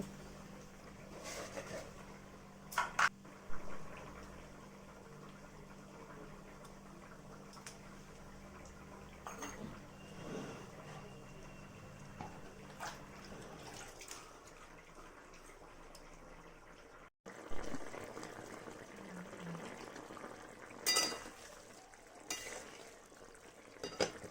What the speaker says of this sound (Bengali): এবার ভালোভাবে শিলটা ধুয়ে নিচ্ছি